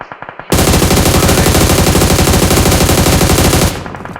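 Sustained rapid automatic gunfire in a shooting video game, loud and continuous for about three seconds after a few lighter shots, then cutting back to quieter single bursts.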